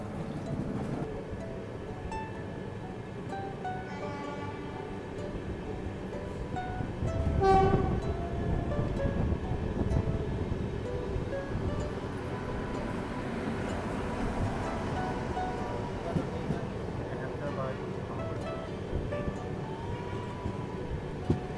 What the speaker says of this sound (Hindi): सिकंदराबाद दरभंगा एक्सप्रेस।